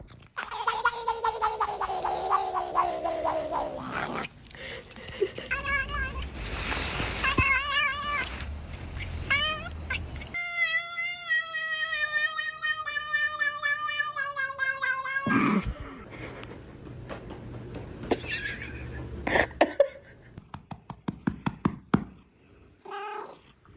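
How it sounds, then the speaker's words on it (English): Cats meow and caterwaul in long, wavering, nasal calls, several in succession with pauses and scattered knocks between them, fairly close and mostly alone, with little talking. "These cats are weird."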